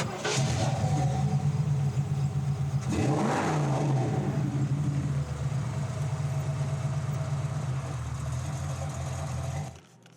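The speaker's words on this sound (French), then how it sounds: "J'ai cru entendre une voiture." A nearby car engine runs at a steady mid-pitched hum, with a short rev swelling and falling away early on. The drone then continues evenly until it cuts off abruptly at the end.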